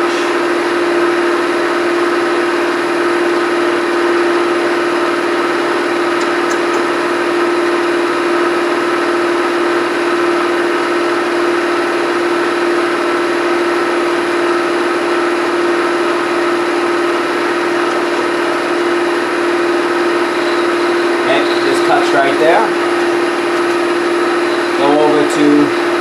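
South Bend knee milling machine running steadily with a constant motor hum and whine throughout, loud and close, with some brief clatter near the end as the knee is cranked up toward the work.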